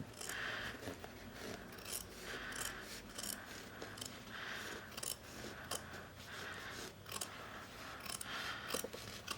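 Scissors snip through denim across a jeans waistband side seam, a steady run of crisp, close cutting strokes, each blade closure clear and rhythmic with no talking.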